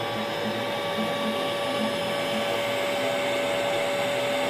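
A modified CNC machine slowly carving an aluminum logo at a very slow feed produces a steady, loud whine with a constant high tone and broadband hiss, continuous throughout with no talk.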